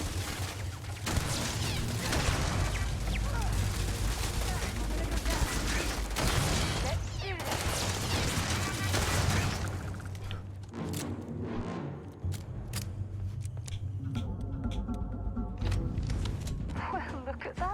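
Turrets firing in Starfield, rapid bursts of automatic gunfire rattling near and loud through most of the stretch, with mechanical clanks and sharp impacts, broken by brief pauses.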